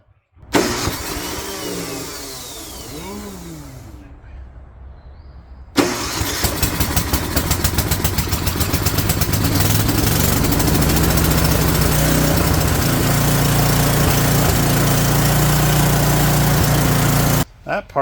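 A small engine on a homemade firewood hauler sputters briefly, cuts out, then catches and runs steadily and loud at close range after priming, with a short voice near the start.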